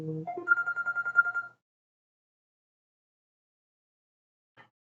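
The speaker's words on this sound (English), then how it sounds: "Oh boy, phone." Telephone ringing during a golf game: a quick burst of rapid pulsing electronic trills in one ring lasting about a second and a half, then silence with a faint tick near the end.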